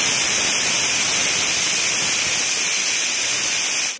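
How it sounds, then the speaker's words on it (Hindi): Loud, steady hiss of steam rushing out under pressure from a pressure cooker of arhar dal for several seconds, then cutting off abruptly. "दो सीटी लगाने के बाद कुकर का जो स्टीम है उसको मैंने रिलीज़ कर लिया है"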